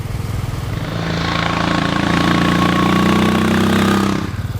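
A Royal Enfield Classic 500 motorcycle engine idles, then revs up and holds a loud, steady drone before dropping back, close by and with no talking.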